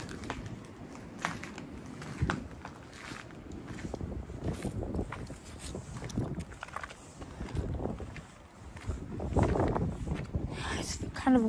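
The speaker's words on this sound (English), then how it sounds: "It's kind of windy out." Gusty wind blows across an outdoor lot at an abandoned, boarded-up Kmart in Richmond, Michigan, buffeting the microphone with steady low rumble throughout while a person talks over it.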